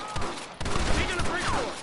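Rapid bursts of gunfire in a Red Dead Redemption shootout, several overlapping shots in quick succession with game voices shouting over them.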